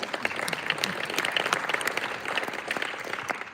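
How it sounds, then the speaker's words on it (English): Audience applause at a county budget town hall, a moderate crowd clapping steadily with crisp individual claps throughout, heard fairly close and without talk over it. "That is an applause line, maybe."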